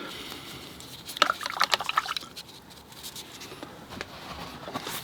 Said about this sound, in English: Then I rinse off my brush.